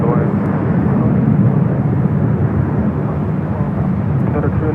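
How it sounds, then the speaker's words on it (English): A Japan Airlines Boeing 787 Dreamliner takes off at LAX with a loud, steady jet engine roar. The broad rumble holds constant and close throughout. "The Dreamliner with Japan Airlines should be the next takeoff."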